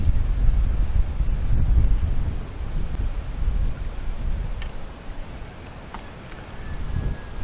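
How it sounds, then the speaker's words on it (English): Strong wind sweeps across a lagoon on the Murray River, buffeting the microphone with heavy low rumbling gusts that rise and fall and ease somewhat toward the end. "Oh boy, that's windy."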